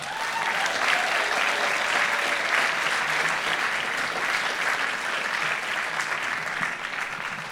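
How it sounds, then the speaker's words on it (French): Sustained audience applause at an evening show, dense steady clapping from a crowd throughout, loud and even with no break. "on peut les applaudir très fort"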